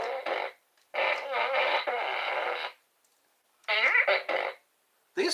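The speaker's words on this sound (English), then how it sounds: "These sound like deliberate farts." Pig farts come in several long, loud, buzzing bursts with gaps of silence between them, close and isolated with no talk.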